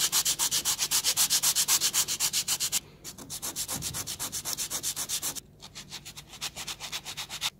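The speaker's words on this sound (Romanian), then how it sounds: "Cu o bandă de șlefuit le șlefuim un pic" Wooden 3D puzzle pieces being sanded with a sanding band, a fast rhythmic rasping sweep repeating steadily in three runs with brief pauses between, close and alone.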